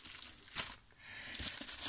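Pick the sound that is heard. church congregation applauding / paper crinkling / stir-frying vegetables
paper crinkling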